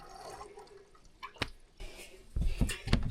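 Water drains from a well-water spigot in a wall pipe while the system is winterized. Faint drips come first, then heavier splashing gurgles near the end, close and fairly loud.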